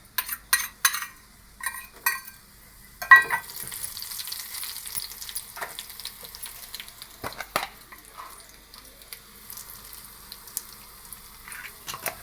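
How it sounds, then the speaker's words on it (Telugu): Sharp sputtering bursts as curry leaves hit hot oil for a lemon pickle tempering, then a softer crackling sizzle with occasional pops and faint utensil clinks; no voices. "దూరం ఉండు, కరివేపాకు వేస్తున్నా."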